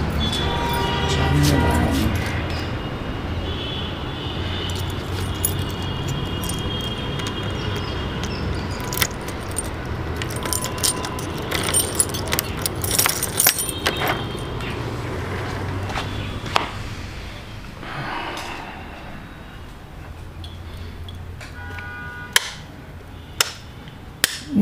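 Keys jangle close by as someone fetches a set of keys at home early in the morning, metallic clinks and rattles scattered over steady room noise, with sharp knocks and clicks near the end.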